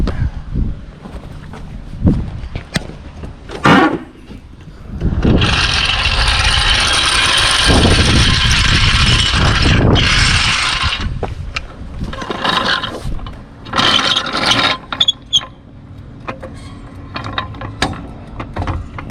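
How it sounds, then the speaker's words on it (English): The front of a wrecked Honda car is jacked up from the subframe: bursts of metallic ratcheting clicks alternate with longer grinding mechanical stretches and short pauses, loud and close. "So what we're gonna do, we're gonna jack up the whole front."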